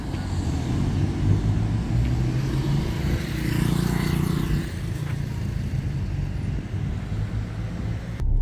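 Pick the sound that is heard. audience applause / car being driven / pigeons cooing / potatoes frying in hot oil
car being driven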